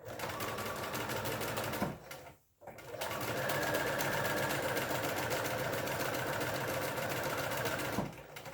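A sewing machine stitches a small fabric cup coaster in fast, steady rhythmic bursts, pausing briefly then resuming close and clear.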